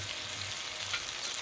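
Ground cumin, coriander, chilli and turmeric sizzle steadily as they fry in oil with spring onions, a continuous close frying crackle with no voices.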